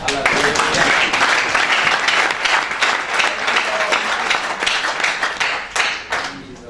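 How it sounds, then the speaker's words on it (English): A church congregation claps its hands for Jesus, a loud, dense, rhythmic clapping that fills the room and tapers slightly at the end, with voices mixed into the crowd. "Can you clap your hands for Jesus?"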